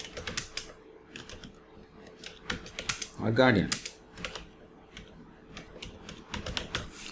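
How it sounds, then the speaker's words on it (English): Someone types on a computer keyboard while filling in a Google Form, giving quick bursts of close, crisp key clicks with a brief gap in the middle, while a person talks briefly between the bursts. "The moment I start typing the name"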